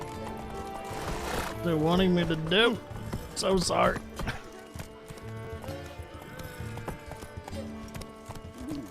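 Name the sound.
horse hooves and whinny in video game The Witcher 3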